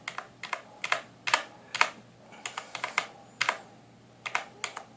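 Keystrokes on a NUBWO NK-45 computer keyboard, crisp clicks in quick clusters and short bursts with brief pauses, close and clear over a faint background hum.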